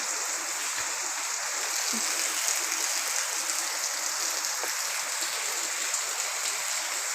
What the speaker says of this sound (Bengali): ভালোই বৃষ্টিটা হচ্ছে